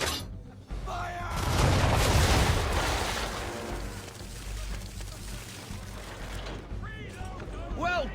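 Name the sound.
ship's cannon broadside firing in Assassin's Creed 3 video game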